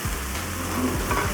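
Carrots and celery sizzle steadily in a pan, a close, even frying hiss with no talk.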